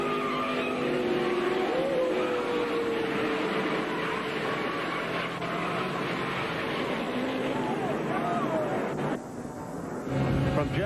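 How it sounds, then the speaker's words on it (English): NASCAR truck crashing into the outside retaining wall during a race, with engine roar, tyre skidding and a burst of impact noise under continuous broadcast commentary. "outside retaining wall goes Jeffrey Bodine. The truck comes totally apart."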